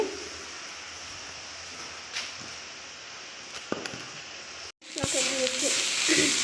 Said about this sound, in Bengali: আলুতে ভাজা ভাজা করে নেব।